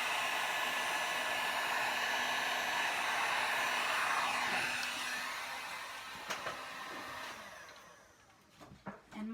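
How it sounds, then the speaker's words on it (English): A heat gun used for resin pouring runs in its cool-down mode, a steady close blowing whoosh that fades toward the end as it winds down, followed by a few soft handling knocks. "my heat gun has a feature, a cool down feature, and it stays on for a long time"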